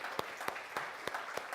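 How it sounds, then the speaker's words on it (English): Audience applause at a Sunday celebration service at CSL Cape Coral, a short burst of scattered claps with a few sharper hits over a soft crowd wash. "Let's give them a round of applause."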